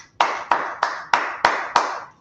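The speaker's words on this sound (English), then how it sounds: "Let's clap it up." Six crisp, evenly spaced claps ring out in a steady rhythm, each sharp and moderately loud, as a group claps along during a Bible teaching class on the law. No one speaks over them.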